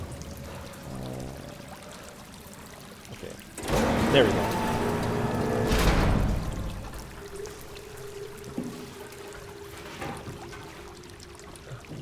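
In the SOMA video game, a rushing surge of water pours in, swelling loud for a few seconds before easing to a softer trickle, with someone speaking briefly over it.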